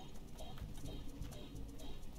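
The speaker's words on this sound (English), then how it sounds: "Oh, I hear something. Oh, bird!" Faint bird calls and cooing in the game Rain World, several short repeated notes over a low murmuring background, no talking.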